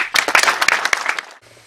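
A group gives a brief round of applause for two Ludhiana police officers: a quick burst of distinct, close handclaps that stops abruptly after about a second, leaving near silence.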